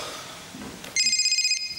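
A telephone starts ringing after a faint muffled stretch, giving a bright electronic warble that repeats in a fast pulsing pattern for about half a second, fairly close and clear.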